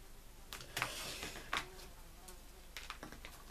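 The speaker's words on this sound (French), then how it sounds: "il y a une mouche" Faint buzzing of a housefly drifting through a quiet room during paper crafting for a Christmas mini album, with soft intermittent rustles and clicks.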